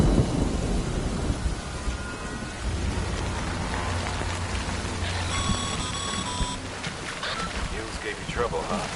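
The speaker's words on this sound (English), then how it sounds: "Good thing it's raining." Steady heavy rain hisses over rolling thunder in the video game Death Stranding, with a low rumble swelling midway and a short electronic beeping tone cutting in, while a voice speaks over the storm.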